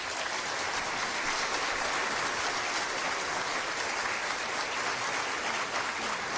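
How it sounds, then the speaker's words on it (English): A crowd claps steadily throughout, dense and even, with no pauses or voices standing out. "Let's get the applause."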